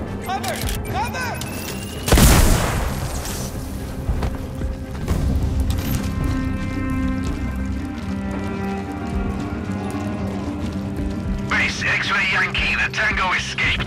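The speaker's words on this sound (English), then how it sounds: "Throwing grenade! Cover! Cover!" A single loud grenade explosion bursts early in Sniper Ghost Warrior Contracts 2, followed by scattered gunfire and ambient game sounds, with soldiers' voices talking before and after.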